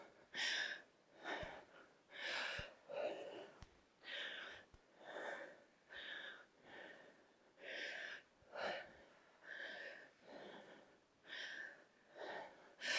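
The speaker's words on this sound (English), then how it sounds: "Cassidy and I are breathing hard." Two women pant heavily after a full-body dumbbell strength workout, rapid rhythmic breaths in and out repeating steadily, close and clear with no talking.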